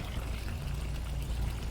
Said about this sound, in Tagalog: Lagyan natin tubig dyan oh.